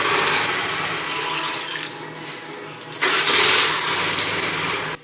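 Water pours from a vessel onto drained, soaked sago pearls in a bowl, a close, steady splashing stream that briefly softens, then surges louder before stopping.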